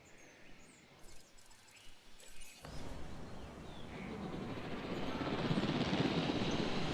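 A helicopter in the Jurassic World video game starts up and flies, its engine noise rising abruptly and swelling louder and closer over several seconds, with faint bird calls audible before it takes over.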